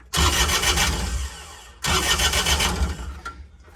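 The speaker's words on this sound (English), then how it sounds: "Oh, starter works." A Caterpillar 302.5 mini excavator's Perkins diesel engine cranking and starting twice in succession, each burst loud and close with rough mechanical clatter before cutting off.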